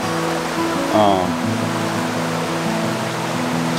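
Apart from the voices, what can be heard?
Linville River flowing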